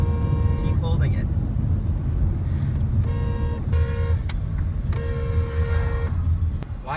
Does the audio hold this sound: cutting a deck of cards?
no